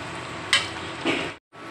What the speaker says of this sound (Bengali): তাওয়ায় তেল দিয়ে দিয়েছি, দিয়ে দিচ্ছি পাঁচফোড়ন